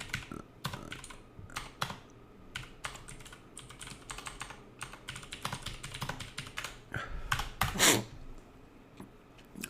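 Fingers type on a computer keyboard in quick, irregular bursts of soft clicks and taps that grow busier toward the end, close and fairly quiet, with no voices.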